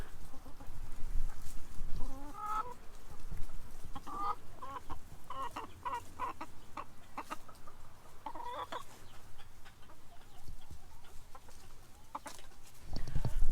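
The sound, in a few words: chickens clucking while eating watermelon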